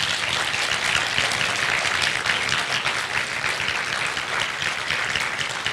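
Sustained applause from an audience at a talk fills the room evenly and loudly for the whole stretch, a dense steady wash of clapping with no voices over it.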